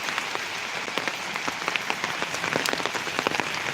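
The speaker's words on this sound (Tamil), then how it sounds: "கொஞ்சம் ஜோராக வந்துட்டு இருந்துச்சு மழை இப்போ பார்த்தீங்கன்னா சிலு சிலு சிலுன்னு சொல்லிட்டு பனி மாதிரி வந்துனே இருக்குது" Light drizzle falling steadily beside a tamarind tree after heavier rain, a dense soft patter of fine drops with scattered close ticks and splashes, continuous and moderately loud with no voices.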